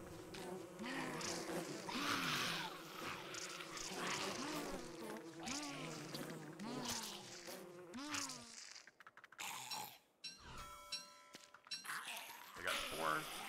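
Swarming bees buzz in a Webber strategy game while they are drawn onto spider minions, a buzzing drone mixed with a talking voice that gives way to scattered game effects toward the end.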